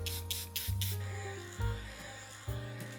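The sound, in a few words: makeup setting spray being sprayed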